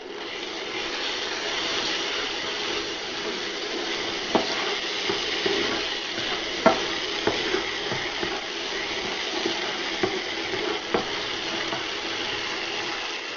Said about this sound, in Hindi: अब इसमें अदरक लहसुन का पेस्ट डालेंगे 2 टेबलस्पून और इसको फ्राई करेंगे